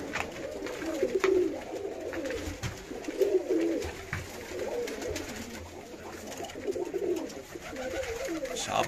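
Birmingham Roller pigeons, the cocks, coo steadily in a loft, with several birds overlapping in soft, rolling murmurs that rise and fall throughout at close range.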